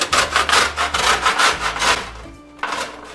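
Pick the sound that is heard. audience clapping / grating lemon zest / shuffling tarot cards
grating lemon zest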